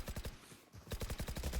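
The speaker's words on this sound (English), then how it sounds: "the amount of gunshots that rang out to break that haunt" Rapid bursts of gunfire from a competitive shooter video game tournament match, a dense rattling volley that breaks off briefly and resumes, fairly faint and with no talk.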